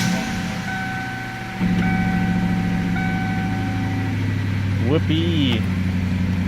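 A 1994–2004 Ford Mustang engine runs with a steady, deep exhaust rumble that grows fuller after a couple of seconds, while a voice gives a brief excited shout over the idling drone.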